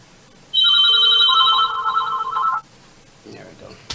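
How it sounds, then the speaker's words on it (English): A telephone rings in a quiet broadcast room, a bright multi-tone ring lasting about two seconds, loud and close, followed by faint background sounds. "Alright, I'll jingle his phone"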